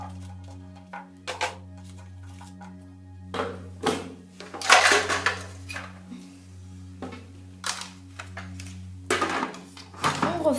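A chopper blade being fitted into a food processor bowl and onion and carrot pieces dropped in, heard as a run of close, sharp plastic clicks, knocks and clatters spaced irregularly over a steady low hum.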